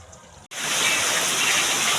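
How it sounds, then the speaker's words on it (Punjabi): Heavy rain pours onto waterlogged, flooded crop fields. The rain comes in suddenly as a loud, dense, steady hiss and stays constant after a brief quieter moment. "ਅੱਜ ਫੇਰ ਚੱਲ ਪਿਆ ਬਹੁਤ ਮੀਂਹ ਪੈ ਰਿਹਾ"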